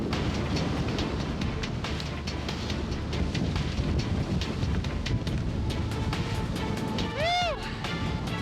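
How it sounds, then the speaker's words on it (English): Strong wind in Iceland roars steadily and loudly across open terrain, buffeting without a break, with a brief whistling tone rising near the end. "The wind continues to pick up"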